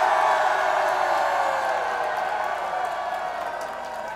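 A large protest crowd at the Trocadero in Paris shouts and cheers in a sustained, dense roar that fades slightly over a few seconds, with scattered applause mixed into the din.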